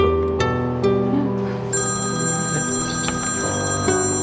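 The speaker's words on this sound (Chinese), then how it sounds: "不好意思啊，我去接个电话，" A telephone rings with a repeating electronic ringtone, steady tones over a low musical background, in an indoor dramatic scene.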